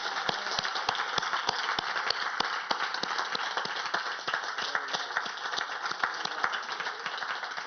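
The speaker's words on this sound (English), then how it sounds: "look at each other and applaud each other" An audience of educators applauds one another, a sustained, lively round of many hands clapping with a few sharper individual claps standing out, even and fairly loud throughout.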